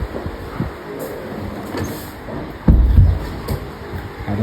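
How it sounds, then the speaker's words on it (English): A door closing indoors, a single solid thump with a brief rumble that stands out over low background noise and faint chatter. "Let me close the door."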